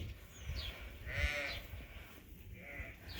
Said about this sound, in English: there's another lamb and sheep in the other barn crying too